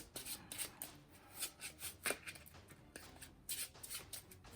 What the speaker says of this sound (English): And I'll need to shuffle.